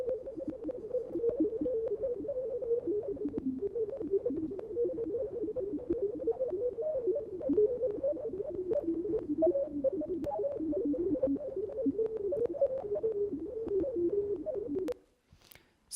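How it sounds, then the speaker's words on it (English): Sonified tomato DNA moving through a nanopore, heard as a continuous warbling, fluttering mid-range tone with rapid wavering pitch, steady and alone, ending abruptly near the close. "What you just heard was tomato DNA moving through a nanopore."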